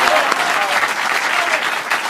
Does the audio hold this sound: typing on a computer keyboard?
no